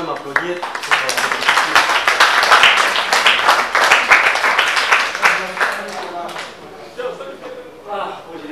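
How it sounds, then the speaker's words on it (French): Applause from an audience at a children's event about bonobos, a dense burst of many hands clapping that stays loud for several seconds, then thins into scattered claps and fades out, with speech mixed in. "je vais quand même applaudir"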